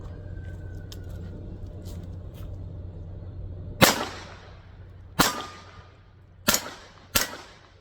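Four sharp .22 pistol shots from a Taurus TX22 Compact striking steel targets about 12 to 15 yards out, each a crisp crack with a short ringing tail, spaced unevenly over a low outdoor hum.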